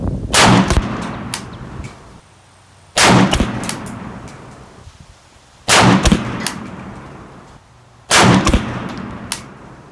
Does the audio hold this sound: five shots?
yes